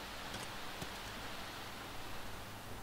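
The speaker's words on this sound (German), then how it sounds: "jetzt regnet es anscheinend" Steady, soft rainfall in The Sims 3 makes an even wash of hiss with faint patters, unbroken and fairly quiet, with no voices over it.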